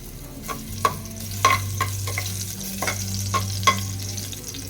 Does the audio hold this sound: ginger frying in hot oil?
yes